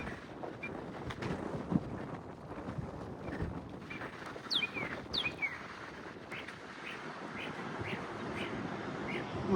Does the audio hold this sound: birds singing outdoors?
yes